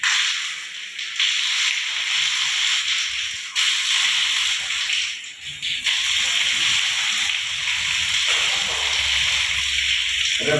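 Water is splashed onto the face during wudu, the ritual washing, with continuous close splashing and running water and a few brief breaks in the flow.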